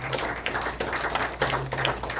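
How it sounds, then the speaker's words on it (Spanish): Church congregation at a bilingual Sunday service applauding, irregular bursts of close hand claps over a low steady hum, with a few louder individual claps standing out. "Un aplauso a nuestro Dios en esta tarde."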